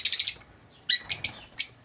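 Bright, high chirping calls of Iraqi-bred domestic pigeons in short bursts, a quick cluster at first, then a few scattered chirps after a brief pause.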